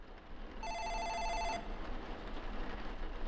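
Telephone ringing inside the Future Racer 2000 video game, a bright electronic trill heard as one burst of about a second, loud and close over a steady ambient game background with no talk.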